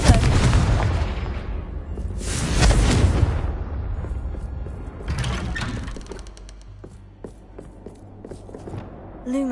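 Blasting spell in Hogwarts Legacy goes off with a loud burst near the start and another heavy surge around a few seconds in, followed by lighter crackling impacts and game noise.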